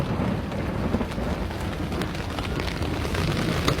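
Heavy rain pours down in a flash-flood storm while the street runs like a river. A loud, steady downpour roars close by, and low rumbling thunder rolls beneath it the whole time.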